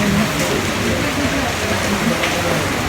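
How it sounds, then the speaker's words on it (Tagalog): Steady rain patters and hisses continuously on surfaces nearby, a dense, even wash of drops with no pauses. "Umuulan dito"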